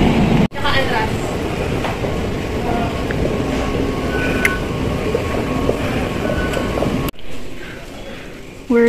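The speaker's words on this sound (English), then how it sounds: "We're here sa train station." Steady rumbling ambience inside a Dubai metro station at night, with train noise and broad background hum running throughout and two brief dropouts; voices murmur faintly in the mix.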